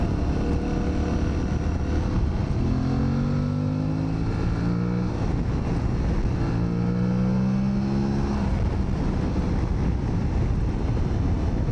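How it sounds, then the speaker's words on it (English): An Aprilia Tuareg motorcycle engine drones loudly and steadily with strong wind rush, rising in pitch through two rev climbs as it accelerates, heard from onboard. "I'm really loving this engine. I think I'm quite in love with this engine"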